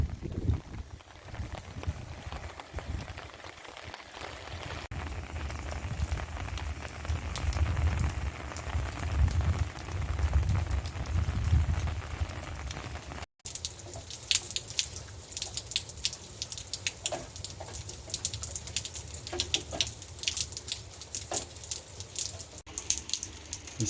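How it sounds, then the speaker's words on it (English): Steady rain in metro Phoenix, Arizona during a winter storm patters constantly on surfaces, a dense hiss with dripping spatter, heavier low runoff early, then a brighter patter after a brief cut. "Constant rain."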